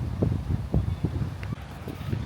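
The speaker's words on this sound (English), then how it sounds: "It's very windy today." Gusty wind blows on a beach outdoors, buffeting the microphone in irregular low rumbles for a couple of seconds with no other sounds.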